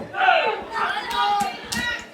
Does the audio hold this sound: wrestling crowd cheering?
yes